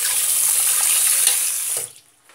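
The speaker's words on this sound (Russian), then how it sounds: "Сейчас я этот нож помою." A knife rinsed under a running tap, a close, loud rushing splash of water that stops abruptly near the end, leaving near silence.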